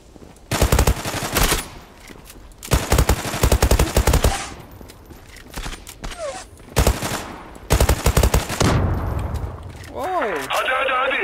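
A P90 submachine gun fires in a competitive first-person shooter match, with several loud rapid bursts separated by short gaps, under a speaking voice and other game sound effects.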